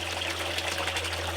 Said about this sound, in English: Getting a lot of splash over here